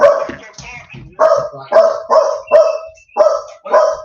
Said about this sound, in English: Let me let the dog out.